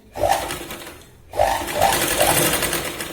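A sewing machine stitches a Punjabi dress cut from a sari, whirring close and loud in two runs with a short pause between them.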